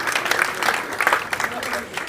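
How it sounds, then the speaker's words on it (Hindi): A baby girl about nine months old claps her hands again and again, a quick run of soft, uneven claps close by, blended into a busy, noisy welcome gathering. "बार बार ताली बजा रही है"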